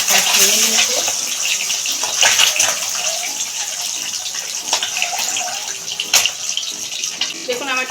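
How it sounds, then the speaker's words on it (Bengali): Eggs fry in hot oil in a pan while cooking egg curry, giving a loud, steady, close sizzle with bursts of crackling and spattering. "এখন ডিমগুলো আমি ভেজে নেব"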